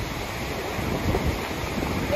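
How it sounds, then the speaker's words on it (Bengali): Broadband rushing roar of a large waterfall on the border between the USA and Canada in snowy weather, steady and loud, mixed with wind buffeting the microphone. "মাঝখানে কি সুন্দর জলপ্রপাত দেখতেই পাচ্ছেন"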